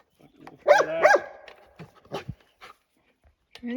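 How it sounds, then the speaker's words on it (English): A golden retriever lets out two loud, close barks in quick succession, followed by a few softer yips and snuffling sounds in an otherwise quiet setting. "Anybody else have a golden retriever that loves to bark at rocks?"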